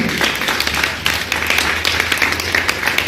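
A congregation in church claps steadily together, a dense, loud and continuous wash of clapping with a loose rhythm.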